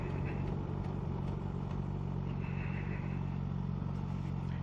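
A 2022 Kawasaki Z H2 motorcycle being ridden on a country road, a steady low engine drone with wind rumble held at an even level throughout, no talking.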